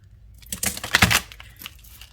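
Tarot cards being shuffled, a deck with an aqua metallic edge, give a papery riffling and crinkling that rises in a quick burst mid-clip and then fades to a few soft flicks, with no talking.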